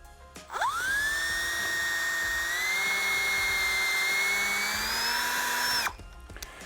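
A drill whines steadily for about five seconds as it bores a pilot hole through asphalt roof shingles, the pitch climbing slightly before it cuts off, loud and close with no talking.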